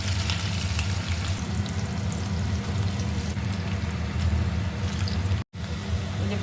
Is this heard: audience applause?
no